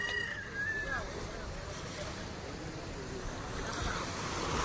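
Ocean waves wash along a seashore in a steady surf roar mixed with wind buffeting the microphone, continuous and fairly loud.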